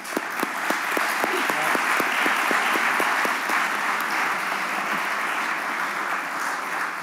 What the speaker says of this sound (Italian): vorrei ringraziare Ferruccio De Bortoli, al quale farei subito anche un applauso